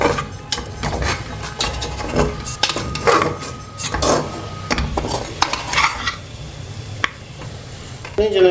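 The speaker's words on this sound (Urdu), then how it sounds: "تو ہلکا سا ہم فرائی کر لیں گے." Balochi chicken tikka karahi frying with masala in a pan, with steady clanks and scrapes of a utensil stirring against the metal over a faint sizzle, close and fairly loud.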